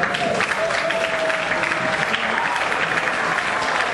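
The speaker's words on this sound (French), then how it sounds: "Et nous allons applaudir en grand, et c'est un grand petit applaudissement pour Henri Choisy" Congregation applauding for a reverend at a church gathering: loud, continuous clapping from many people, close and sustained for the full few seconds with a thin tonal hum running briefly underneath.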